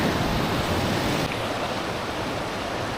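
Elk River Falls in North Carolina pours in a steady, loud, broadband roar of rushing water that stays constant throughout, with no voices over it.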